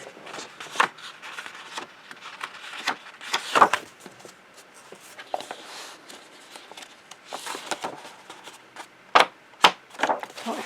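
Pages of a Wildflowers coloring book handled during a Neocolor II coloring session, with soft papery rubbing and crisp flicks and crinkles in uneven bursts, close by and fairly quiet.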